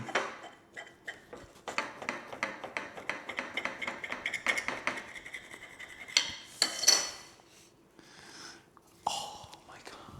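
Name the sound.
knife cutting a baked pan brioche loaf in half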